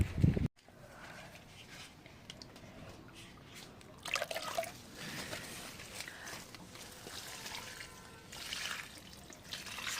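Water from a container splashes and trickles onto cucumber plants at the roots in a garden, close up with intermittent gushes and drips over a breezy background.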